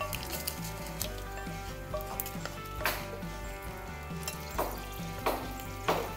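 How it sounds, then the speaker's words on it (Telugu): Mustard seeds splutter and crackle in hot oil in a pan while tempering is made for tomato curd chutney. Quiet, dense sizzling is broken by scattered sharper pops, with no talking. "ఆవాలు చిట్పట్లాడుతున్నాయి, పోపు వేగిపోయింది"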